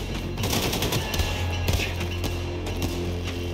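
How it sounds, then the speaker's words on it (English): Rapid, closely spaced gunfire rattles through a firefight in Wolfenstein: The New Colossus, loud and steady with sharp shot transients layered over dense game noise. "I hear the commander's pistol."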